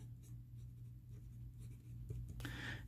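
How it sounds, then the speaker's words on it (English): A fine-nib fountain pen filled with Noodler's ink scratches steadily across paper at close range, a soft continuous scratching under a low constant hum, growing brighter and busier near the end. "So I will write in the second space"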